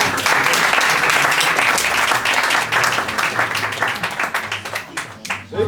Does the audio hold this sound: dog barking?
no